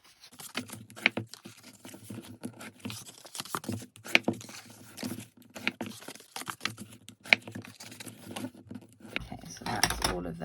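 Cardstock for a peony box gets creased along its score lines with a bone folder, producing intermittent dry scraping swipes and crinkly rustles, close and moderately loud, with a voice speaking between the strokes.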